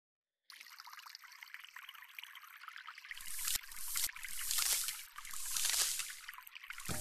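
Water collection in a video game begins after a brief silence as a thin trickle, then swells into heavier pouring and splashing gushes that rise and fall toward the end, with no talking.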